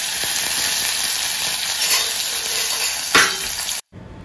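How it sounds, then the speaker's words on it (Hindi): Steady, loud sizzling of mustard seeds and fresh curry leaves frying in hot oil, a continuous crackling hiss with a brief sharper burst near the end. "तेल डाल चुकी हूँ, थोड़ा सा राया डाल रही हूँ,"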